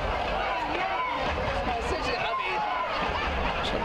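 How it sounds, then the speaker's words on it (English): Crowd noise from a soccer playoff match between the Switchbacks and Seattle Sounders in a stadium, a steady murmur of spectators under continuous commentary. "The crowd senses it."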